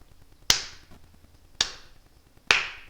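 Three sharp, distinct claps ring out about a second apart, each a crisp close snap with a short decaying tail, over near silence.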